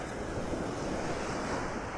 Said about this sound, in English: The surf is up.